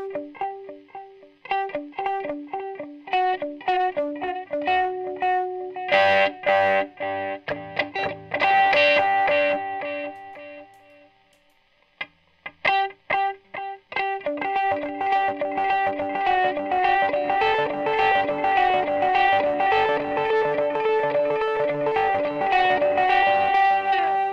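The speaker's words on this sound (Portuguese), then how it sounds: "Depois vem no modo vermelho, que é um delay digital com uma pegada mais rítmica, né?" An electric guitar runs through a digital delay pedal set for rhythmic dotted-eighth repeats, its bright plucked notes cascading into echoing patterns, loud and continuous with a short pause midway and no talk.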